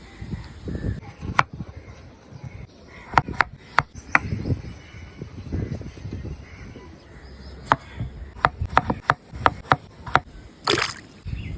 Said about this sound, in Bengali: আলু তো কেটে নিয়েছি